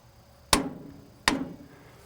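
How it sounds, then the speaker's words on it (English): A DeWalt Atomic 20V compact impact wrench tightens a bolt toward 400 foot-pounds, two sharp loud impact bursts about three quarters of a second apart, each ringing briefly before fading. "Let's tighten this guy up to 400 foot-pounds."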